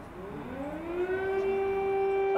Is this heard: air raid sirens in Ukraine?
yes